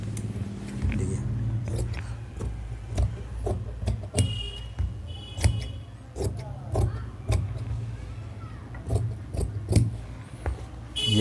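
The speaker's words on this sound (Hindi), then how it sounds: "हल्का सा शेप पट्टी रखकर आप ऐसे करके तिउरे को काट लीजिए।" Scissors cutting shirt fabric along a marked curve: a series of crisp, close snipping clicks in irregular bursts, with a person talking quietly underneath throughout.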